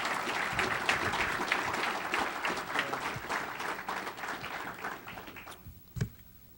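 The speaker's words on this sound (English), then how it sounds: "Give them a round of applause again." An awards breakfast audience at a sports club's athletes-of-the-year ceremony gives a long round of steady, dense applause that slowly thins and fades, ending with a single soft thump.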